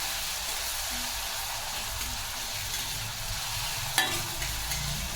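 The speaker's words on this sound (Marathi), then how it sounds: "हिरवी मिरची तेलात असं 2 ते 3 मिनिट छान असं फ्राय करायचं आहे।" Green chillies frying in hot oil for a Marathi ghevda (flat bean) vegetable dish give a steady, close sizzle with soft stirring scrapes and a sharp clink near the four-second mark; nobody speaks.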